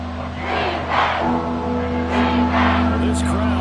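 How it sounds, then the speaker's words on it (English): A stadium crowd roars and cheers in the Madden football video game, a steady loud wash of voices with swells, rising in the closing seconds of a tight game with a timeout and third down. "this crowd is doing their best to make a loud record"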